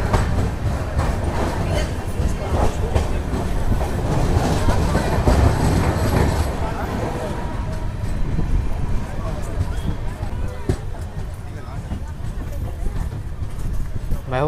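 The Satavahana SF Express, running from Vijayawada toward Secunderabad, rolls along the rails with a loud, continuous rumble and rhythmic clickety-clack heard from inside a general coach, with voices talking under the train noise.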